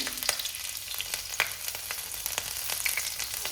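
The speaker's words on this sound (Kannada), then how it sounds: "ಎಣ್ಣೆ ಆಲ್ರೆಡಿ ಕಾಸಕ್ಕಿಟ್ಟಿದ್ದೀನಿ, ಕಾದೈತಿ. ಒಗ್ಗರಣೆ ಕೊಡೋಣಂತ. ಮೊದಲು ಹಸಿಮೆಣ್ಸಿನ್ಕಾಯಿ ಹಾಕ್ಕೊತೀನಿ" Steady crackling sizzle of green chilies frying in hot oil, with scattered pops and spits throughout, close and fairly quiet.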